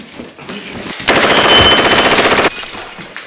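Rapid burst of gunfire during a staged police raid on a house, loud and dense for about a second and a half, with quieter shuffling and room noise before and after.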